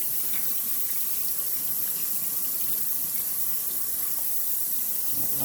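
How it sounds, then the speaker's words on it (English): Cold tap water runs steadily into a kitchen sink while a whole chicken is rinsed, a constant bright hiss and splash close by with no talking. "what I like to do is turn on the cold water"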